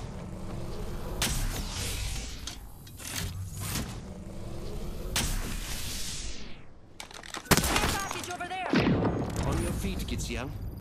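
Gunfire in Apex Legends rattles in bursts and single sharp shots, loud and close, some rapid volleys separated by short gaps, with keyboard clicks and a voice heard between them.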